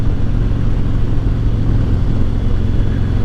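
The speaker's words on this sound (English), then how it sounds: "You get that note from the exhaust. Now this is just a stock exhaust" A motorcycle with a stock exhaust and new air cleaner rumbles with a steady, deep, loud exhaust drone while riding, continuous and close with no talking.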